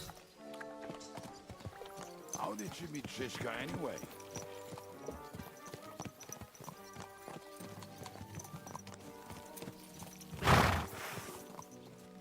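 Horse hooves clip-clop steadily while riding in Kingdom Come: Deliverance 2, with a brief snort near the end and people talking over the hoofbeats alongside soft background music.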